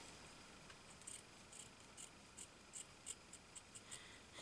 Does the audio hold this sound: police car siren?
no